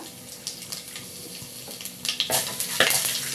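Bay leaves go into hot oil with panch phoron for a mixed vegetable curry, a quiet sizzle that swells into louder crackling and splattering near the end, without speech.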